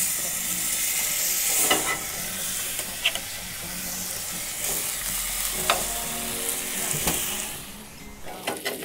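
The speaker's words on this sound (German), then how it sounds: "die anderen 2 Filets auch noch in der Pfanne anbraten." Salmon fillets sizzle and hiss steadily in a pan, a continuous bright frying crackle with occasional pops and stirring sounds, close and fairly loud.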